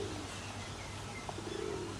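Birds coo and chirp steadily over a low hum in an aviary in Nha Trang, Vietnam, several birds calling near and far with no talking.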